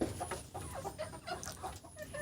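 Sonali chickens cluck in a steady scatter of short calls, several birds nearby at moderate volume with a faint farmyard hum behind them.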